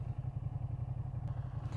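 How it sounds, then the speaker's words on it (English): A Ducati motorcycle engine idles close by with a steady, rhythmic low throb and light throttle blips, with no voices present. "if you rev it, like give it light blips like that, the engine just shuts off"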